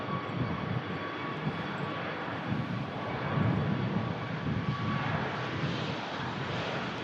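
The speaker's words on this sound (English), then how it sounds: "First British Airways at the show today." A British Airways airliner at Manchester Airport gives off a steady, broad engine roar that holds at an even, moderate level for the whole stretch, with no voices over it.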